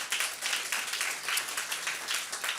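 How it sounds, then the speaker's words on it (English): An audience at a Department of Labor event in Birmingham gives a steady round of applause. Many hands clap at once, moderately loud, throughout. "So I think we can give her a hand clap for that."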